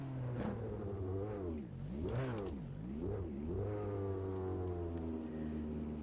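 A racing car engine revs up and down through repeated accelerations and gear changes on the Santa Cruz circuit in Automobilista 2, a loud, steady close-up drone with rising and falling pitch sweeps.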